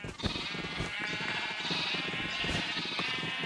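Sheep bleat on a sheep farm in a video game, several overlapping bleats continuing throughout at a fairly close, steady level with no talking.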